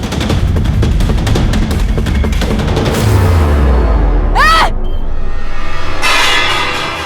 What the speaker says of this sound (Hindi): अरे 10 रुपए के लिए कोई गोली चलाता है क्या?